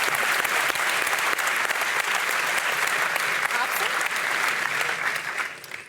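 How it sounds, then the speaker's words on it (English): A large audience cheers and applauds in a steady, dense roar of clapping that lasts several seconds before starting to fade at the end. "thanks for everybody cheering"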